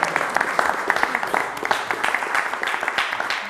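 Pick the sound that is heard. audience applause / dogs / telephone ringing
audience applause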